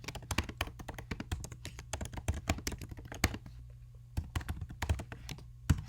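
Fingers type on a computer keyboard to enter a Zoom poll question, producing quick irregular bursts of close, crisp key clicks with a brief pause in the middle before the tapping resumes.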